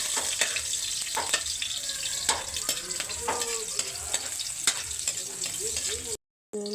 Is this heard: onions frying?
yes